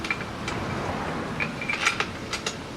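Bolts being tightened on a 2006 Honda Big Ruckus 250cc scooter during rear tire replacement, heard as faint metallic ratchet clicks and light clinks scattered over steady background noise, with no talk.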